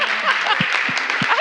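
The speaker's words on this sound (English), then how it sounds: "can we get a round of applause for Bronwyn at Launchvic" A brief burst of audience applause at a startup-ecosystem conference session, with a voice speaking over the clapping and a few low thumps.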